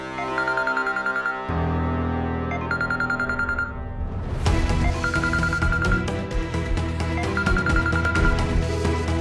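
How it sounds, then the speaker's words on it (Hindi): A phone rings with a repeating electronic trill, first over soft music, then under a swelling dramatic score that enters midway. "फोन उठाओ"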